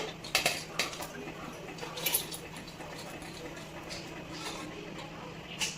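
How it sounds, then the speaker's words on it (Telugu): Fried paneer pieces go into a pan of paneer butter masala curry, with a few sharp metallic clinks of a spoon against the pan over a low, steady kitchen background. "ఇప్పుడు మనం ఫ్రై చేసి పెట్టుకున్న పన్నీర్ ముక్కల్ని వేసుకోవాలండి"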